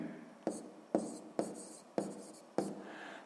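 A math solution is written by hand in five quick, distinct strokes, each a sharp scratch that fades before the next, close and fairly quiet.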